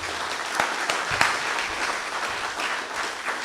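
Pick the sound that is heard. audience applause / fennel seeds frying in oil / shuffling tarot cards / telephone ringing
audience applause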